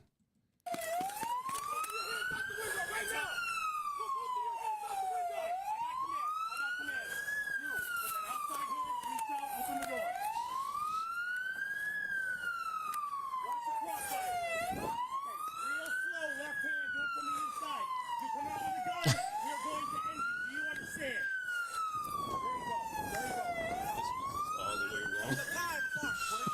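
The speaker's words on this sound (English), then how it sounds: "Shut off that siren." A police siren wails continuously, sweeping up and down in a steady repeating cycle, loud and close, with no pauses.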